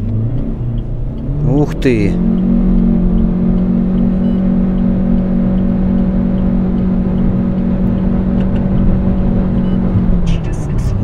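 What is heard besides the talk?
Chery Tiggo 7 Pro accelerating hard, 0-100 km/h run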